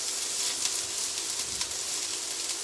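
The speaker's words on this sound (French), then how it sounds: "Donc là, l'oignon est en train de revenir." Onion sautés in a pan for a rustic eggplant and candied tomato tart, giving a steady, close, bright sizzle with slight crackling swells throughout and no talking.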